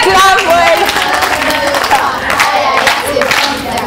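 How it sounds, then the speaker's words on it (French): A children's TV studio audience cheers and claps loudly to encourage a young contestant on a Congolese quiz show, a steady crowd roar with excited shouts for the full few seconds. "On acclame pour l'encourager."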